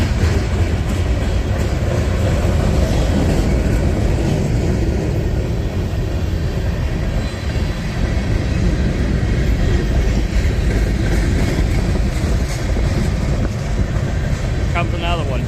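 A BNSF freight train with old white Santa Fe cars rolls past close by, a loud, steady rumble and rattle of wheels and cars continuing throughout, with a person talking over it.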